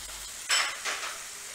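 Green peas are sautéed in a pan for a matar masala rice dish, heard as two short scraping stirs over a faint sizzle, close and fairly quiet, with no talking.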